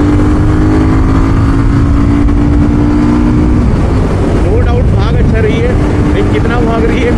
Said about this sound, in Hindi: अब ये मैं दोबारा पिकअप करता हूँ एक बार, ये मिस जो हो रहा है ना 4000 RPM के बाद